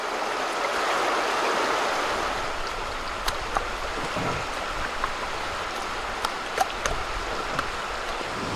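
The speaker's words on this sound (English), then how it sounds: "It was so peaceful last night, falling asleep to the sounds of this river." A river flows steadily beside a campsite in Michigan's Upper Peninsula in spring, a broad continuous rush of water with faint scattered clicks and knocks over it.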